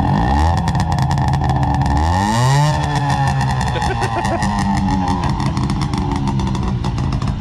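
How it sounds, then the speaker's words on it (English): A 1974 Mazda Porter with a two-stroke engine runs loud and close at a car show, its pitch climbing as it revs up then settling into a steady buzzing drone. "So this is a Mazda Porter."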